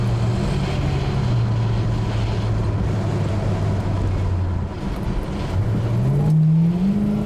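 A 1966 Pontiac GTO with about 129,000 original miles pulls forward with a steady low engine drone. The pitch holds and then climbs again near the end as the car accelerates while driving, with no talking.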